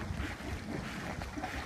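A sailboat's engine idles at the stern with exhaust running, a steady low rumble blended with outdoor wind and water noise, continuous and moderately loud, with no talking.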